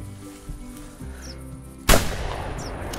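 A single loud, sharp rifle shot cracks out during a pheasant hunt in theHunter: Classic and decays quickly. It follows a quiet stretch of outdoor ambience with faint bird calls.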